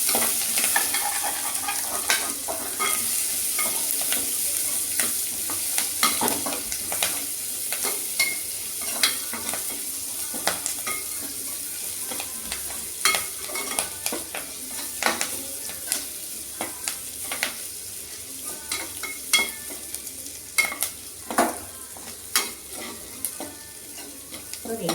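Onions frying in oil with asafoetida, a steady close sizzle broken by repeated scraping and clinking as a spoon stirs the pan.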